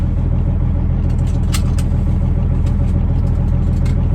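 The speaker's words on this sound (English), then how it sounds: "Just warming the truck up at home." A truck engine idles while warming up at home in the morning, a steady low rumbling drone with even pulsing throughout and a few faint clicks, no talking.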